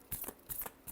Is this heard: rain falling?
no